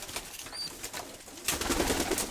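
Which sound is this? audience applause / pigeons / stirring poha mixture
pigeons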